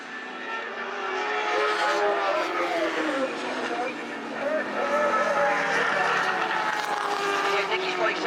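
A superbike racing motorcycle, running a little rough, passes the tower on a race circuit with a rising and falling engine scream, mixed with other bikes and heard under commentary.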